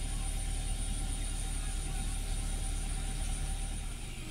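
A 2012 Toyota Avanza engine running at around 1900 RPM, a constant close low hum and drone with a faint high whine, unbroken throughout.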